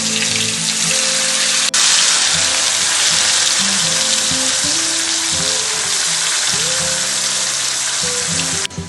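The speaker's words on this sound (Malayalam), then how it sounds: "ഇപ്പൊ ചിക്കൻ പൊരിക്കാൻ വേണ്ടിട്ട് വെക്കുന്നത്" Chicken pieces frying in hot oil for pakkavada give a loud, continuous crackling sizzle close by, with a soft melodic tune running underneath and a sharp click near the start.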